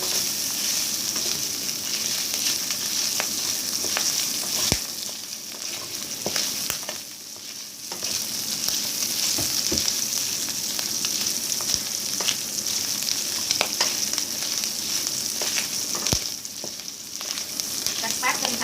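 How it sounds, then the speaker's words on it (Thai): Pork and Thai red curry paste frying in oil for a stir-fried sweet bamboo shoot dish, a steady dense sizzle with scattered pops and crackles throughout, close and fairly loud with no talking. "พริกแกงเริ่มแตก แลิน้ำมันหมูเพิ่งจะเริ่มแตกนะคะ"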